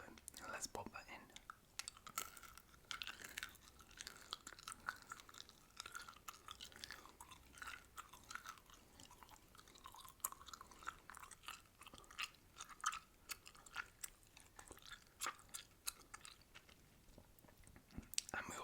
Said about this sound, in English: We'll also do a little bit of gum chewing as well in the background